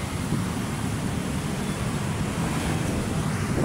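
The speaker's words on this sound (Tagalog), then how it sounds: "Mahangin na, mahangin." Steady, broad rushing wind at Manila Bay buffets the microphone, mixed with a distant wash like surf, continuous with no voices.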